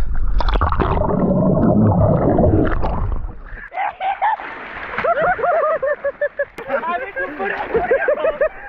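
Water splashes and churns loudly at the start as a bike ride goes through muddy water, followed by excited voices talking and shouting over lighter watery sounds.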